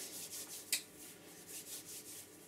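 Rhythmic back-and-forth sanding on an idigbo wood turned pen case, soft rasping strokes repeating steadily, with one brief sharp scrape early on; quiet and close.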